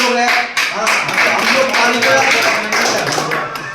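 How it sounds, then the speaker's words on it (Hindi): People at a district-level political meeting clap in a loud, close burst of sharp individual claps, with a brief dip partway through and voices mixed in under the clapping. "लोग ताली बजा रहे हैं"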